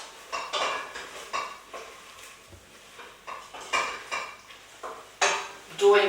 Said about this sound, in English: Just need to nip into my frying onions.